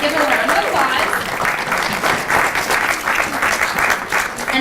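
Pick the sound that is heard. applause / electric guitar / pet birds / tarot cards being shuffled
applause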